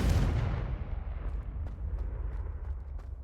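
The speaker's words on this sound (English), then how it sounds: "Confringo." A Confringo fire spell blasts in Hogwarts Legacy, a loud booming explosion at the start that decays into a low rumbling roar with scattered crackles, no voices.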